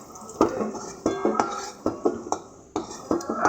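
A metal utensil scoops potatoes out of a pan, giving repeated scraping clinks and knocks in uneven bursts, close and fairly quiet.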